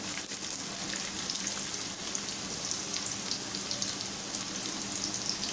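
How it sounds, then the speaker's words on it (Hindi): Two medium onions, chopped, frying in hot oil for a beef kofta curry, giving a steady, dense, loud sizzle that runs unbroken throughout with no one talking. "ऑयल गर्म हो गया है, इसके अंदर मैं 2 मीडियम साइज़ की प्याज को मैंने चॉप कर लिया है, ये ऐड कर दूँगी।"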